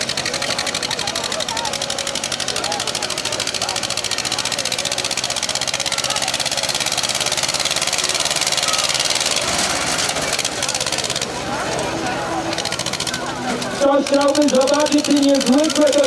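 A steady mechanical tractor engine drone runs continuously and loudly at a tractor race, with rapid rhythmic chatter close by; voices break in near the end.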